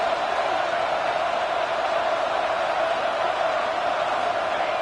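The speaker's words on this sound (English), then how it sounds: "It's early, but this crowd is fired up." A fired-up stadium crowd at a football game keeps up a constant, dense roar, a broad wash of noise that holds level and unbroken from start to finish.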